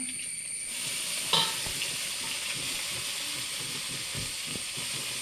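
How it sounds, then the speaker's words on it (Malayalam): Elephant yam leaves stir-frying in a pan, a steady hissing sizzle that rises as the leaves go in, with a clatter and soft scraping stirs, no voices. "നന്നായിട്ട് ഇളക്കി കൊടുക്കാം ഇനി ഇതിലേക്ക് നമ്മുടെ ചേനയുടെ ഇല അങ്ങ് ഇട്ട് കൊടുക്കാം"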